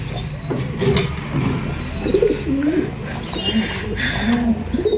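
Pigeons in a home loft coo with low, soft rolling calls, several overlapping at close range under a person's voice.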